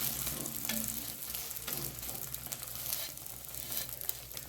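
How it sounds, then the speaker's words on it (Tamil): Egg dosa fries in oil on a pan with a steady crackling sizzle, close and fairly quiet, broken by a few soft scraping touches. "சுற்றி எண்ணெய் விட்டு நல்லா வேக வச்சு திருப்பிடும்"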